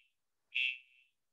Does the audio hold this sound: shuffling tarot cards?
no